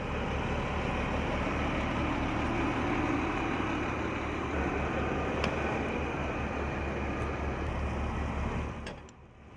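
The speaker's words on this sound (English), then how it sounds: "the engine is ready to pull forward to the original hydrant" A fire engine idling and pulling forward to a hydrant gives a loud, steady low diesel rumble that holds for several seconds before easing off at the end, with no voices.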